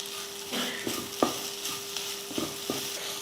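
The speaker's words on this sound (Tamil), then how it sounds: "சிக்கன் போட்டு ஒரு ரெண்டு மூணு நிமிஷத்துக்கு நல்லா இந்த மாதிரி நல்லா வறுத்து விட்டோம்னா அந்த மசாலா வந்து சிக்கனில் நல்லா பிடிச்சிக்கும்" Chicken frying in masala in a pan, stirred with repeated scraping strokes over a continuous close sizzle, with no talk.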